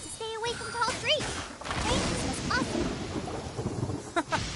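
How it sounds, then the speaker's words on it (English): Thunder rumbles through a rainy storm in the video game Genshin Impact, a low roll with a sharper crack near the middle, while short whistling character voices and chirps sound over it. "When you hear thunder, it's best practice to stay away from tall trees."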